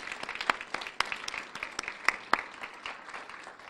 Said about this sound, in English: Please, a round of applause for these beautiful subdivisions within our neighborhood.